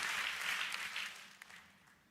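Church congregation clapping together in praise, a bright burst of many hands that swells early and then thins and tapers off over about two seconds.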